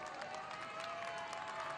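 A large street crowd cheers and claps beside the women's marathon course in London, a steady wash of applause and voices with no breaks, heard at moderate volume from some distance.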